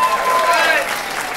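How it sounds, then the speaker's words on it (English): Applause from the audience at a costume contest pre-show, a brief burst of dense, steady clapping mixed with crowd noise and some voices. "Give them a big round of applause"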